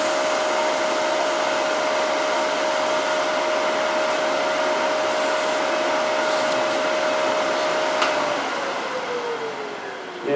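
Wooden decorated box on a running lathe sanded with 400-grit sandpaper: a steady, close whirring hiss with a faint constant tone, continuous throughout and easing slightly near the end.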